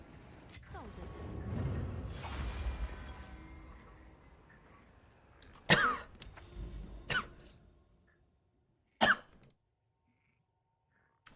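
A person coughing after swallowing a drink the wrong way, a few sharp, close coughs spaced apart, with some throat noise and breathy sounds before them.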